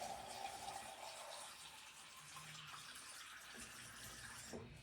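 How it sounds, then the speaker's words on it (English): Water is poured into a pot for corned beef and cabbage, a soft, continuous rushing splash heard fairly faintly and close, tapering off toward the end. "I'm going to add about 2 cups of water just to get things steaming and going"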